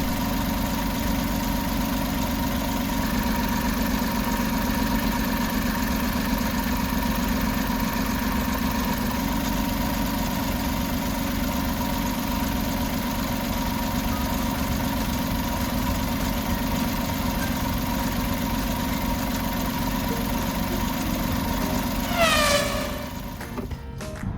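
A kei camper's engine idles steadily with a constant low hum and mid-range drone, before and after a Maruyama molybdenum additive is put in, ending with a brief descending tone near the close.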